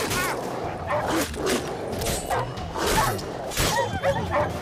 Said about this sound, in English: Why are the dogs attacking me?